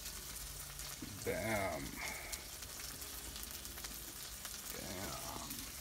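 Bacon frying on a barbecue grill gives a steady, soft sizzle through the whole stretch, with a voice speaking briefly over it.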